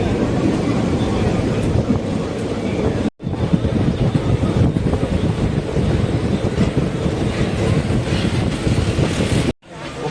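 A train stands or rolls through Kallidaikurichi railway station on the Sengottai to Tirunelveli line, giving a loud, steady rumble with wind buffeting the microphone throughout, broken by two brief dropouts.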